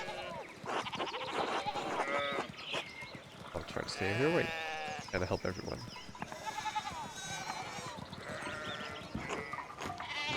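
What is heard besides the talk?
sheep bleating in video game Pentiment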